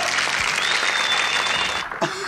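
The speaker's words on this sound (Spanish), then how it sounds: "Fuerte el aplauso para ella" A burst of audience applause, dense clapping from a crowd that fades out toward the end.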